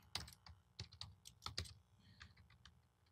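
Keystrokes on a computer keyboard while entering a custom variable in PDQ Deploy software, a quick irregular run of close clicks and taps at moderate level, with no voices.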